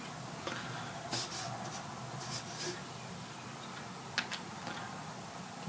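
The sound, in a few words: drawing border lines on A3 paper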